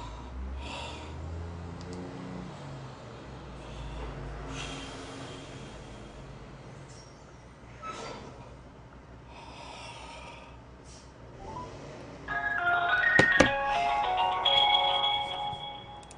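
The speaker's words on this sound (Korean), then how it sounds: "전화 좀 해볼게요" An outgoing call ring tone on a Skype call sounds loud and close near the end, after several seconds of quiet breathing and snorting noises, with no speech.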